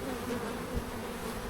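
Honey bees buzz steadily during a hive inspection of a large colony, a continuous close, low droning hum with no voices.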